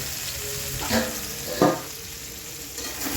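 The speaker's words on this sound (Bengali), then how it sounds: "তেলের মধ্যে এটাকে ভেজে নেব পেঁপে আছে গাজর আছে কুমড়ো আছে রাঙালু আছে আলু আছে মূলো আছে" Papaya, carrot, pumpkin, sweet potato, potato and radish pieces frying in hot oil for shukto, a soft continuous sizzle with a few louder stirring scrapes, no voices.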